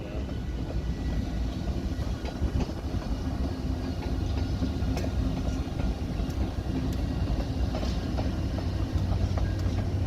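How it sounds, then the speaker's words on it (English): CSX diesel locomotives rumble steadily on the rails, a continuous low heavy drone with faint clicking wheel noise throughout and no pauses. "Those are our CSX locomotives, ain't they?"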